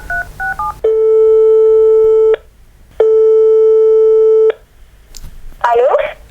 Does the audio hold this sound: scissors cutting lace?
no